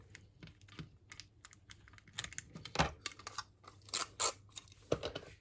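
Scissors snip through decorative cello tape in a series of short crisp cuts and crinkles, close and quiet, irregular with a few louder snips toward the end.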